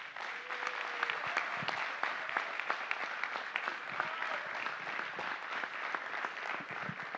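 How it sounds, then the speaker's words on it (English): Sustained audience applause at a Welcome Home Vietnam Veterans ceremony in 2024, a dense, steady wash of many hands clapping close by with no talk over it. "Ladies and gentlemen, please offer a warm round of applause for Mr."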